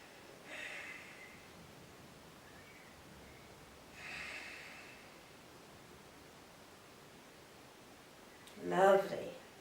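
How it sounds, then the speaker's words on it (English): Slow, deep breaths during a gentle yoga class, two soft airy exhalations near the start and middle followed by a louder, closer breath near the end, otherwise quiet. "3 deep breaths."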